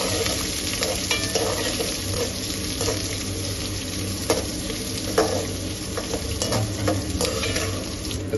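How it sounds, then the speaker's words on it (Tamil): Mustard seeds and cumin sizzle in hot oil for a tempering, a steady crackling fry with scattered sharp pops and faint stirring scrapes throughout. "தாளிக்கிறதுக்கு வெறும் கடுகு, ஜீரகம் மட்டும்தான் போடணும்"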